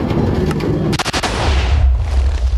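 A Minecraft TNT cannon with seven blocks of TNT fires, a sharp crack followed by a rumbling blast that fades into a low roar, loud and close.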